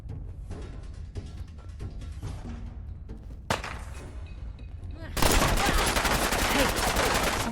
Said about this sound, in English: those submachine guns just kind of tear you apart